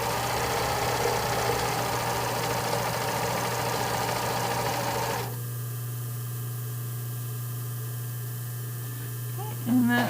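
A sewing machine stitches fabric for a seam on the inside of a pair of briefs, giving a steady mechanical whir with a low motor hum, busier for the first half and then settling into a quieter running drone.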